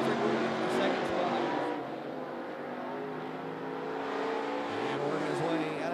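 Race cars in a heat race at 411 Motor Speedway produce a steady engine drone and roar, with an announcer talking over the track noise.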